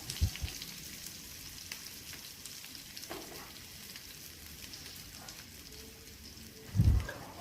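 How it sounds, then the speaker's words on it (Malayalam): Onion and curry leaves sauté in a hot pan of oil for a chutney, giving a steady, close sizzle throughout, with a couple of soft utensil knocks at the start and near the end. "ഒരു സവാള അരിഞ്ഞ് വെച്ചിട്ട് ഉണ്ട് അതും കൂടി ഇതിലേക്ക് ഇട്ട് കൊടുത്ത് മൊത്തം മൂപ്പിച്ചെടുക്കാം"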